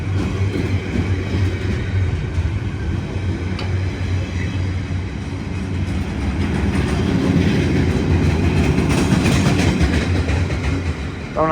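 Freight train wagons roll steadily past at close range, a loud continuous rumble with rhythmic clatter from flatbed wheels worn with flats, at Harringay Green Lanes.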